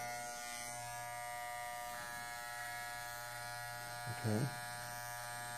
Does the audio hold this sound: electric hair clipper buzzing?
yes